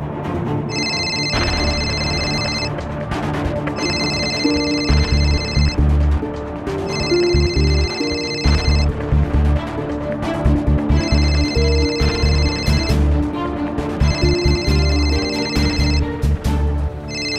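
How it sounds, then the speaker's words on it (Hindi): A telephone rings in repeated bursts over busy background noise, the bright electronic trill recurring about every two seconds, fairly loud. "आपके वाइफ का फोन आ रहा है।"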